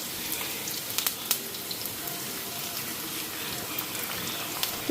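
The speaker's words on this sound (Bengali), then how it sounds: "তো পেঁয়াজটা এদিকে ভাজা হয়ে গেছে।" Onion frying in a pan for egg chow mein gives a steady, close crackling sizzle, with a few sharper pops scattered through it.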